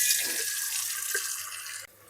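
Tap water running into an idli steamer pot, a steady hissing stream with a faint splash, continuing evenly before cutting off abruptly near the end.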